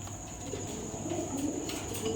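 Red Musallam pigeons coo softly in a bird market, low murmuring calls blending into steady background noise with no speech.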